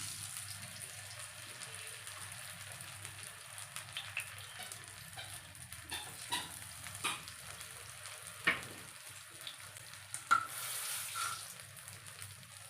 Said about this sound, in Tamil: கடாயில் எண்ணெய் ஊற்றி ஹீட் பண்ணியாச்சு ஸோ நம்ம எடுத்து வச்சுருக்க மீன் அதோட சேர்த்துக்கலாம்